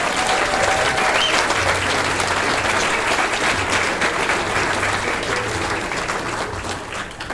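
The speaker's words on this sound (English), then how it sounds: "Let's give them a warm round of applause." A hall full of people at a beach music hall of fame induction gives long, steady applause, a loud, dense wash of clapping that fades slightly toward the end, with a faint hum underneath.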